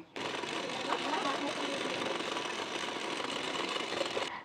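A sewing machine runs steadily for about four seconds, stitching a strip onto a size 44 bra-cut blouse; the motor whirs loud and close, starting and stopping abruptly.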